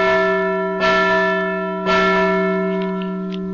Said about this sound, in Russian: На звон колоколов собрались местные жители.